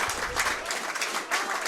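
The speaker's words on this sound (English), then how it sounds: "A round of applause for Nicky Little as he comes off after what" Rugby crowd applauding a player leaving the pitch, a dense, steady burst of clapping from the stands at moderate distance, briefly heard.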